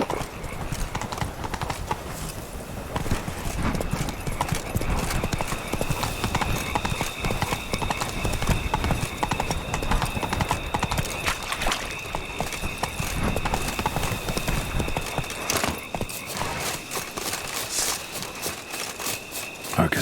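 A horse gallops in the Witcher 3 video game, with steady rapid hoofbeats that carry on close and loud throughout, with a faint tonal game sound and ambience underneath.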